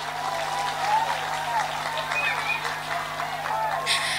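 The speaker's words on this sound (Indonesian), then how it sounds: "Tepuk tangan dulu dong." Applause from a crowd at an Indonesian religious gathering with a comedic preacher, steady clapping of many hands held at moderate volume, with voices and shouts mixed in.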